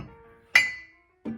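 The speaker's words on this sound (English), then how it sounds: "Don't wanna clink them too much." Glass dishes clink as they are stacked during a move, giving one bright ringing clink that decays slowly, then a shorter muffled knock a moment later, close and alone.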